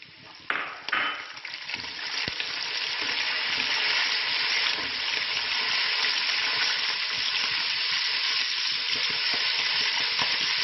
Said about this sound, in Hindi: इनको हम अच्छे से फ्राई कर लेंगे।